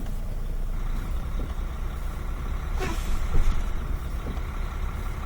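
A truck strains to pull out as its wheels spin, giving a loud, steady roar of engine and tire noise that swells slightly partway through, with no voices.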